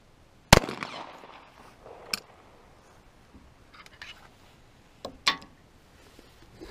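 .45 ACP gunshots fired at a middle target on an outdoor range: two sharp, loud cracks a few seconds apart, each followed by a brief echo, with a fainter pop in between.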